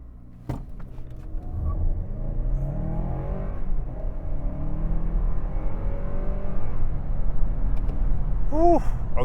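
A Toyota Crown Platinum Hybrid Max launches from a brake boost start, its engine and motor whirring up steadily through rising gears in a loud, continuous build of acceleration heard from inside the cabin.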